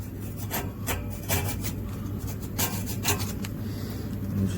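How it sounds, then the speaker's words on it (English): A small screwdriver scraping rust from the corroded metal seams of an air-conditioning unit during a no-cooling repair call, giving repeated close rasping strokes in an uneven rhythm with no talk. "Just get your little screwdriver in there and kind of scrape the rust off."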